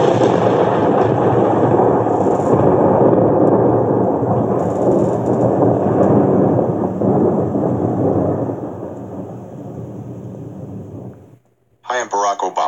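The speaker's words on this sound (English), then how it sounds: "What a thunder." Loud, sustained rolling thunder rumbling for several seconds, fading out before a voice begins speaking at the end.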